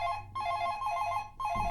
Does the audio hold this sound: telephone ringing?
yes